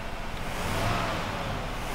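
A 1976 Chrysler New Yorker with a 440 engine accelerates, giving a brief, loud, broad rumble heard from inside the car with no one talking.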